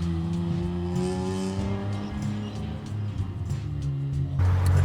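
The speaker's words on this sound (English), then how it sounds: "a nice S54 rasp coming out of this system" BMW E30 running a swapped M54 engine with an S54-style exhaust note, rasping hard and steady as it accelerates, close and loud, with a sharper burst of rasp near the end.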